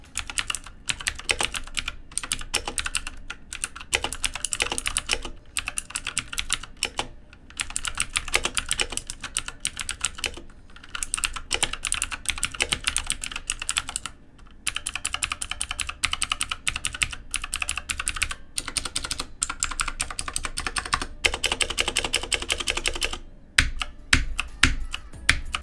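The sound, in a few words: loud clicky mechanical keyboard typing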